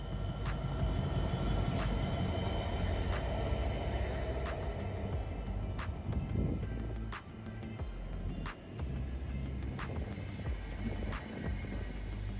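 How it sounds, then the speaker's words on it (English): A train rumbles steadily past at close range, a continuous heavy mechanical roar with rhythmic clanks from the wheels over rail joints. "A Thameslink train pulled in while an East Midlands Class 158 pulled out"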